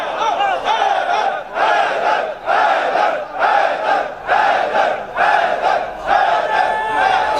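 A large crowd at a religious gathering chants slogans in loud, rhythmic bursts, roughly one call per second, steady and close, with no separate speaking voice.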